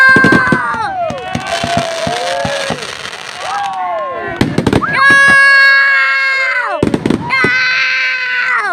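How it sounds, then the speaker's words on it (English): Zigzag fireworks at Pounawea burst with several loud pops between long warbling, rising and falling whistles, as a crowd shouts and chatters nearby. "Squiggly fireworks!"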